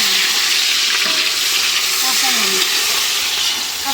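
Onions frying in hot oil for a fish-head murighonto, a loud, steady, close hiss of sizzling that fills the whole moment with no talk over it.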